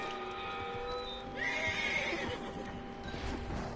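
A horse in Red Dead Redemption 2 whinnies loudly, its neigh rising and falling, with soft hoof clops and ambient outdoor noise around it.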